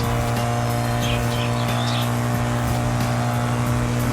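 A BMW M3 GTR engine drones steadily and loudly at high speed, a sustained harmonic roar held throughout with no clear gear change or talk.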